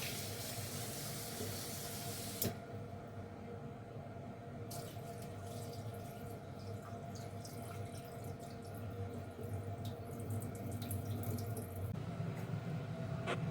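Rice being washed in water in a home kitchen, a steady close splashing and running-water wash that continues without pause, with a brief clatter near the start and no talking.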